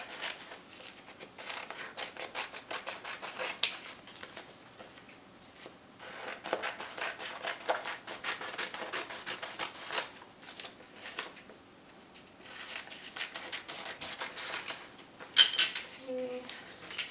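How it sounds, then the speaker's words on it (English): Scissors cut through two layers of craft material for a castle project, giving a steady run of soft snipping and rustling, faint and close, with occasional light handling noises. "And then you need to cut out along the outside. You need to cut through both pieces."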